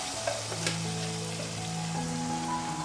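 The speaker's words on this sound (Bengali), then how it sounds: "মশলা যাতে না পড়ে যায় একটুখানি জল দিয়ে দিলাম" A steady, close sizzle and crackle rises as a little water goes into a wok of frying garlic paste, ginger-chilli paste and turmeric, a continuous hiss with faint tonal background hum and no voices.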